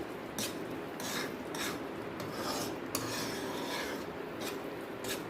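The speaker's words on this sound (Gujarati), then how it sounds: "હવે આને આપણે સારી રીતે મિક્સ કરી લઈશું." Fada lapsi (cracked wheat sweet) stirred in a pan after cardamom powder goes in, with rhythmic scraping strokes of a spoon against the pan bottom, close and fairly quiet, with no talk.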